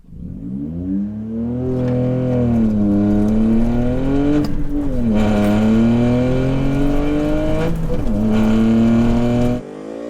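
A car screams past a superbike at roughly 185 mph, its engine tone rising and bending in pitch as it closes in and goes by, loud and sustained before cutting off sharply.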